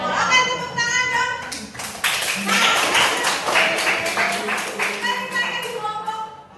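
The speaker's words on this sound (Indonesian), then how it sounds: "Oke, tepuk tangan dong" Group of people clapping together after a classroom activity, steady dense applause lasting several seconds, with children's voices chattering underneath.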